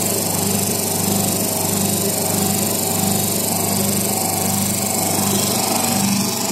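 A hydraulic pump drives a hydraulic cylinder piston in a mechatronics lab, giving a steady, loud motorized drone that holds constant throughout, with no talking.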